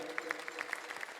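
An audience of villagers at a Marathi devotional kirtan gathering claps together in a quick, evenly spaced rhythm, soft and somewhat distant.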